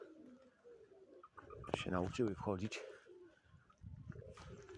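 Racing pigeons coo at their loft, a soft throaty rolling coo repeated a few times close by, with someone talking quietly before and after.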